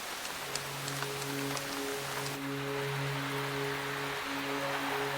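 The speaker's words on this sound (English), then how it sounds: "It rains here nearly every day." Steady rain falling in western Tasmania, a dense soft hiss of drops on foliage with faint sustained tones beneath, continuous and moderately loud.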